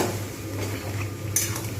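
Chicken and spice masala being stirred in a pan, a utensil scraping and clinking against the metal over a low steady hum, with one sharper clank near the end and no voices.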